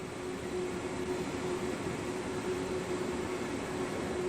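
An ÖBB 1020 electric locomotive on the Mittenwaldbahn route in Train Sim World 5 gives a steady, quiet rumbling hum with a constant mid tone throughout.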